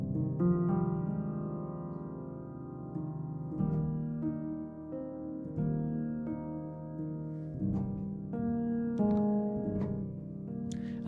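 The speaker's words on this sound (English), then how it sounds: "the Spindle, which is their felt piano. So that sounds like this." Spitfire LABs Spindle, a soft felt piano instrument, plays mellow, rounded chords and melodic notes for lo-fi ambient music. The phrases are gentle and sustained, with some higher notes near the end and no voice.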